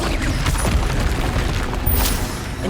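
A disarming spell, Expelliarmus, cast during combat in Hogwarts Legacy, heard as a dense, continuous burst of booming magical impacts and crackle with a brighter flare near the end, loud and close, no voices.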